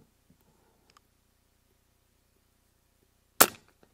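A single sharp, loud report from an Avenge-X Classic .177 air rifle firing a JSB slug at a 100-yard steel target, standing alone against near silence with a brief tail after the crack.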